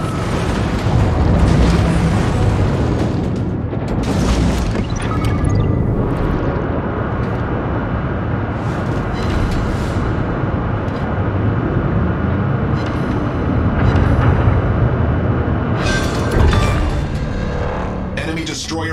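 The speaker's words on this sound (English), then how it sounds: "Enemy destroyer blown up." A destroyer blows up in the naval video game World of Warships: heavy, rumbling explosion booms roll continuously over dense battle noise, loud and close, with brief bursts of sharper blasts throughout.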